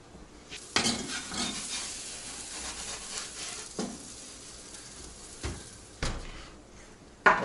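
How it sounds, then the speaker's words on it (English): Pizza slid onto a hot pizza stone in an oven heated to 500 degrees, with a few close clattering knocks and scrapes and softer rustling between them, ending in a sharp clunk. "in we go on the pizza stone"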